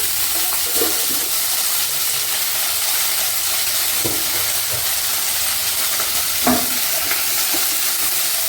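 Whole water chestnuts frying in a pan, giving a steady loud sizzle and hiss throughout with a few faint clinks of stirring, no voices.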